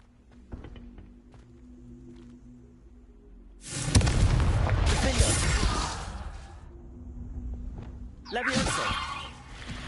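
A Confringo blasting spell in a Harry Potter video game erupts in a loud, roaring explosion lasting a few seconds, followed by a second, shorter blast after a pause, against quiet game ambience.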